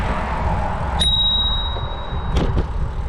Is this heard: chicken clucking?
no